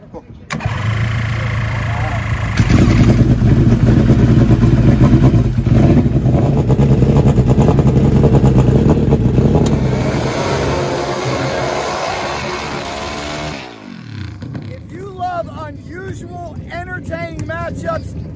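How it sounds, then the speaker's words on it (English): A turbocharged Suzuki Hayabusa and an NHRA Pro Stock drag motorcycle racing at an outlaw drag strip: a loud, sustained engine roar at full throttle that fades as the bikes pull away, with an announcer talking over it. "Where else can you watch one of the world's quickest turbo Hayabusas take on an NHRA Pro Stock Motorcycle Mule?"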